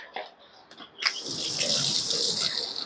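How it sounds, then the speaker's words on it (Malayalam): A vehicle washer nozzle opened to full flow shoots a large water jet during home car washing in Kerala. A steady, close hissing spray bursts in about a third of the way through and holds to the end, with faint knocks before it. "ഇത് മാക്സിമം തുറന്നു കഴിഞ്ഞാൽ വലിയ ജെറ്റായിട്ട് വെള്ളം വരും."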